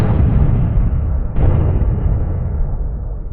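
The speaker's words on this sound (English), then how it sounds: "it leads to an immediate detonation and a massive explosion" A tank hit by a drone explodes as its ammunition detonates, a loud rumbling blast followed by a second sharp burst, with a heavy roar that slowly decays, no voices.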